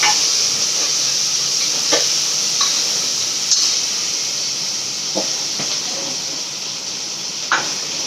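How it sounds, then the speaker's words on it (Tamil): Onions sautéing in a pan for mutton kulambu make a steady, loud sizzling hiss. Occasional spoon scrapes and stirs cut through it, and nobody speaks. "வெங்காயம் வதங்கிடுச்சு."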